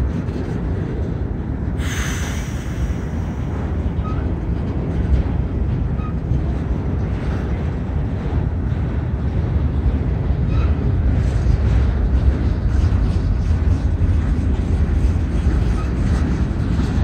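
CSX 1 Spirit of West Virginia and CSX 8903 lead the southbound Q143 intermodal freight train as it slowly starts to move. A continuous deep diesel rumble builds gradually and stays close and heavy throughout.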